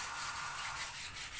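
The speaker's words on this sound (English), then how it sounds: "men are busy cleaning off the bottom, wet sanding it" Wet sanding scrubs a boat hull's bottom nearby in steady back-and-forth strokes, a continuous rough hiss with a gentle pulsing rhythm, in a boatyard in Kilifi, Kenya.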